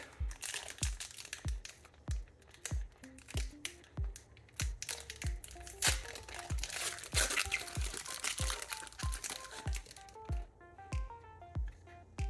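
A Disney Lorcana booster pack's foil wrapper is torn open, giving a burst of crinkling and crunching in the middle over a steady rhythmic background beat.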